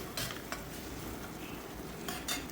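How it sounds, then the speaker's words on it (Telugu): Chopped onions fry with a little salt in a Prestige triply fry pan, giving a steady, moderately loud sizzle with a few brief stirring scrapes and light clinks. "దీంట్లో ఆనియన్ వేగుతున్నప్పుడు మనం కొంచెం సాల్ట్ అనేది వేసుకుంటే ఉల్లిపాయలు బేగా మగ్గుతాయి అన్నమాట"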